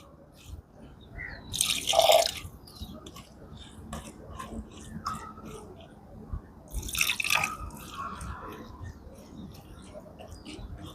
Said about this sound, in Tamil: அது பிறகு கொஞ்சமா தண்ணி சேர்த்து கலந்து விடுவோம்